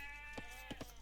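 Sheep bleat faintly three times in a real-time strategy video game match: one short bleat, then two quick ones close together over a steady game background hum.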